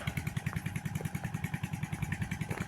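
A fishing boat's motor runs steadily nearby at a rapid, even putter, a regular low thumping pulse with no voices over it.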